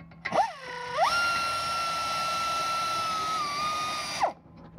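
A power tool spins out brake caliper bolts with a high, steady mechanical whine lasting about three seconds. It revs up briefly at the start, shifts speed once partway through, and then spins down.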